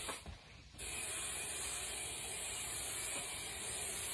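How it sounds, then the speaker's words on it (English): 3M High Strength 90 contact adhesive sprays continuously from an aerosol can onto a boat trailer bunk, a steady loud hiss that starts abruptly after a brief quieter moment and holds evenly to the end. "kind of spray it all down here."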